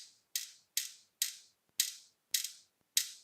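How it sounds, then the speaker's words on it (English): A 3/8 ratchet clicks through six evenly spaced, sharp pawl strokes while tightening a small bolt on a car, close up and isolated against silence. "What that looks like is when you're holding your ratchet."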